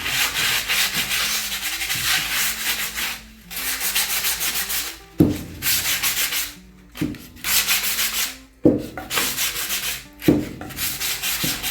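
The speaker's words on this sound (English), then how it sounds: "you can feel when you hit the area that you've already rubbed down or sanded with this" Hand sanding over raised wood nubs on a wooden surface during a furniture repair, steady rhythmic rasping strokes up close, several bursts broken by brief pauses, with no talking.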